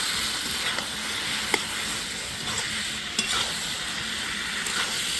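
Shrimp and cabbage are stirred in a hot pan with a steady frying sizzle throughout, broken by a few sharp spoon scrapes and taps against the pan, close and fairly loud.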